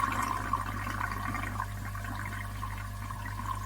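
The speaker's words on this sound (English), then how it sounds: "Now the water should go down now that the water is going through the pipe." Steady rushing water runs continuously through a koi pond pipe, a constant low hum with a hiss on top, fairly close and unbroken.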